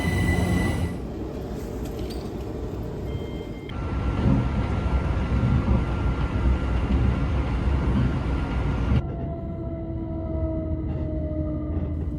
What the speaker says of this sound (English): watch some trains speed through before our service arrived in the form of another Class